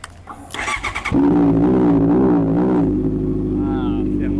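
A 2016 Honda CB650F motorcycle fitted with a titanium exhaust cranks briefly, catches, and settles into a loud, steady idle close by.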